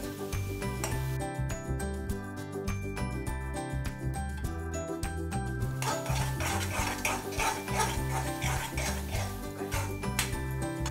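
A thick chikoo mixture is stirred in a pan until it gathers into a ball. A spoon scrapes and clinks repeatedly against the metal under background music.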